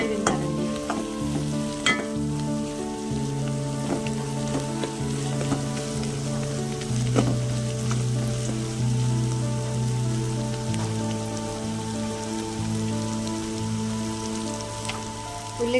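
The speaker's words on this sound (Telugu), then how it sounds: "ఉల్లిగడ్డ, పచ్చిమిర్చి ముక్కలు బాగా వేగాలండి." Onion and green chilli pieces frying in a pan for a cabbage and chana dal curry, a steady close sizzle with stirring scrapes and crackles throughout.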